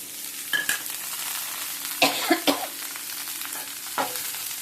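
Carrot and beans fry in a pan with a low steady sizzle, broken by a few sharp stirring scrapes and clinks of a spoon against the pan, close up and with no talking.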